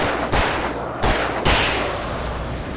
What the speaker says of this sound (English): Let's get the revolver.